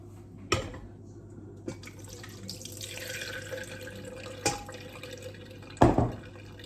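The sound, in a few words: buttermilk poured from a bowl into a jug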